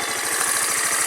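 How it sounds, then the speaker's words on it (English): A Suzuki VanVan or Lifan Xpect motorcycle engine runs with a steady, rapid low putter and a constant mechanical hum, loud and close for a brief moment, with no talking. "So, listen to the engine noise."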